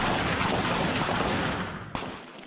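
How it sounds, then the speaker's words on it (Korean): Police officers firing pistols together at an outdoor police special-forces shooting range, with up to twenty shooters on the line: a dense, continuous wash of overlapping shots with no clear gaps, then one sharp report stands out as the firing tails off. "일선 경찰관 15명이 동시에 권총 사격을 하고 있습니다"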